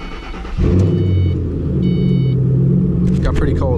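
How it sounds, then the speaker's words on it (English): A 2005 Ford Mustang GT V8 cold start: a starter cranks briefly, then the engine catches with a loud rev and settles into a deep, steady idle rumble, with someone speaking briefly near the end. "Cold start."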